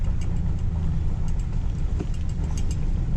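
A car drives along Rock Creek Road through a forest, its engine and road rumble loud and steady from inside the cabin, with faint light rattles riding on top.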